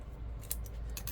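Quiet metallic snips and clicks of scissors being handled, a few light blade sounds over faint background hum.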